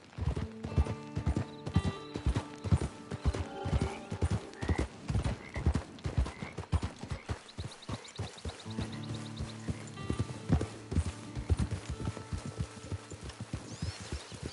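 Rhythmic hoof clip-clops of a horse in the Western video game Red Dead Online, steady trotting beats with a whinny and game music tones layered in, no talk.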